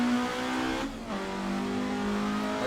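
Nissan GT-R engine in Assetto Corsa, revving steadily and close throughout, with a brief dip in pitch near the middle as it shifts, then a continuous droning tone with faint tire noise beneath.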